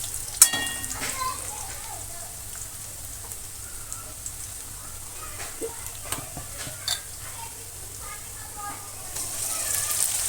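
Onion and ground spice paste frying in oil for soya bean pulao, sizzling steadily with repeated spatula scrapes and stirs, close and moderately loud, with no talking.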